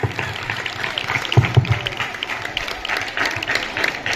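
Applause breaks out from a crowd at a school zonal games prize ceremony, a dense patter of clapping that swells and fades across a few seconds, with voices talking underneath.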